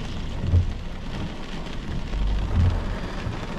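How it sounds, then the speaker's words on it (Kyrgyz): Heavy rain pours steadily outdoors in a dense, constant hiss, with low rumbles swelling beneath it and no voices. "Жамгыр куюп атат"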